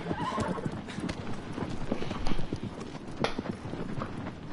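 Horse hooves clip-clop in a steady gallop in the video game Shadow of the Colossus, with occasional neighs, loud and close throughout, with faint voice in the background.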